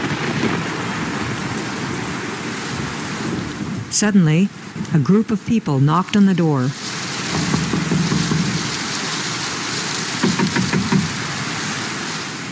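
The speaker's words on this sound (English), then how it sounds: "Outside, the persistent typhoon was raging." Heavy typhoon rain pours steadily with low thunder rumbling beneath it, while a narrator speaks over the storm for a few seconds.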